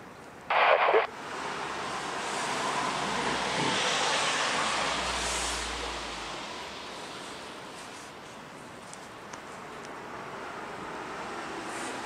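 A Swiss airliner landing on runway 28 at Zurich airport in stormy early-morning weather with gusty wind, a loud broad engine and wind roar that swells and slowly fades, with a brief sharp burst at the start.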